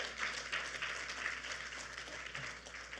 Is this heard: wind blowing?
no